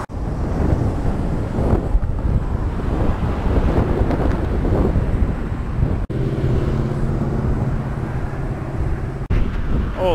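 Strong headwind roars across the microphone while riding a Ninebot One electric unicycle, a loud, continuous buffeting rumble that fills the whole stretch with only brief dips.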